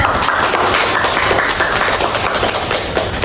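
Classmates in a classroom clap together in a dense, loud, continuous round of applause that lasts throughout.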